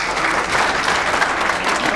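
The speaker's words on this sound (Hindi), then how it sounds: "डॉक्टर साहबा के लिए बहुत सारी तालियां।" Loud, dense audience applause at a Defence Day talent show, a continuous roar of many hands clapping close and even for the whole stretch, with no voices over it.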